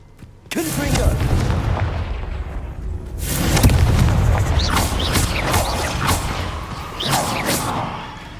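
Confringo explosive spell blasts in the Hogwarts Legacy video game, fighting in a cave maze, heard as a sudden loud burst followed by sustained rumbling booms and whooshes, with fiery crackles and layered impacts continuing throughout.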